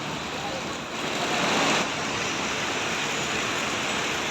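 A waterfall along the Kedarnath to Gaurikund trekking route gives a steady, broad rushing roar that swells briefly before settling back to a constant wash of water noise.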